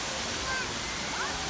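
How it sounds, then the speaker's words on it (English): Jeongbang Waterfall on Jeju Island, which drops straight into the ocean, gives a steady, dense roar of falling and splashing water, with faint voices or bird calls barely showing through the constant wash. "I'm thinking of going closer to obviously get a better look with all the splashing happening."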